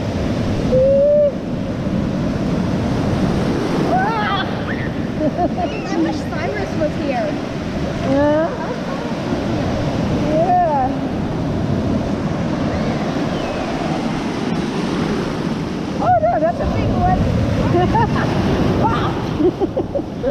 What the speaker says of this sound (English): We're in the big waves.